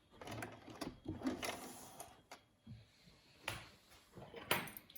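A sewing machine stitches an exposed zip into fabric, with several short bursts of mechanical whirring and clicking separated by pauses, close and fairly quiet, and no talk.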